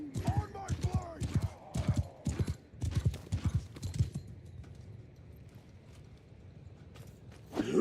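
Cavalry horses moving in a Warhammer-style fantasy video game, with bursts of close, rhythmic hoof clip-clop and a brief whinny over the first four seconds, fading to quieter rumbling after.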